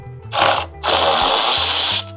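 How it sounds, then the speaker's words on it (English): A power drill removes a 10mm bolt from the center of a car grille in two loud, close whirring bursts, a short one followed by a longer run. "there's a 10mm bolt right here that's in the center of the grill. We're going to be taking that off."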